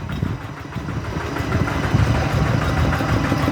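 A walk-behind tractor engine idles with a steady low, chugging rumble that holds close and even throughout.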